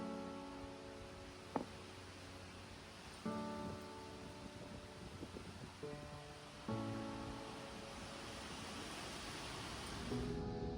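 Hurricane rain and wind roar steadily outside, a dense broadband wash with a few sharp knocks and intermittent harmonic tones layered over it, moderately loud throughout.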